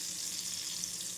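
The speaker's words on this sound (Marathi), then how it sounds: "तर मी इथे थोडी मोहरी टाकून घेते आणि थोडं जिरे" Mustard seeds and cumin sizzle in hot oil, a dense, even hiss of frying that holds steady for a moment with no voices.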